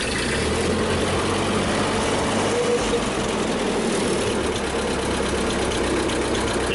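A 1952 Ford 8N tractor engine runs steadily at idle after starting, a loud, continuous low rumble with a rough mechanical clatter throughout and no talking.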